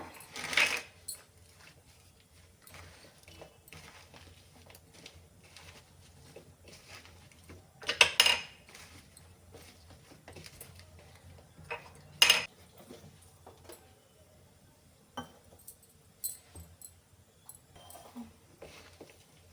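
Spoon clinks against a bowl while okra is tossed with masala powder and salt for ladies finger fry, a few sharp metallic taps standing out over quiet scraping and mixing, close and fairly soft, with no talking.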